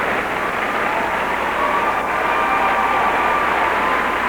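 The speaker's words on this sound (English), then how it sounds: "this audience applauding" Arena audience at the 2001 Goodwill Games women's figure skating free skate applauding steadily, a dense, even wash of clapping that holds for several seconds without pause.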